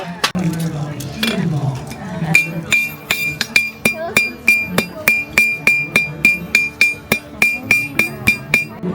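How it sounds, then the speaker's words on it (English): Rhythmic ringing hammer blows on metal, a blacksmith striking steadily on an anvil with bright metallic clangs, close and loud, after a few irregular opening strikes. "Watching the blacksmith hammer away was mesmerizing, like a live-action history lesson."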